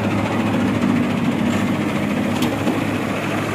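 A tractor engine runs at a steady idle nearby, giving a loud, continuous low rumble with a constant vibrating drone.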